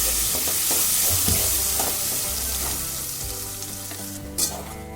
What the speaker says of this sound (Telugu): ఒక 5 మినిట్స్ ఇలాగే ఫ్రై చేసుకోవాలండి.